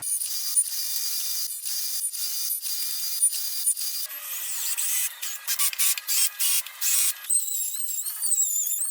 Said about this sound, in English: Got to cut 10 spacers at 5 1/8 inch a piece.